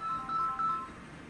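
A phone call rings as a single high electronic tone that holds steady for most of a second, with a faint background hum beneath it and no talking.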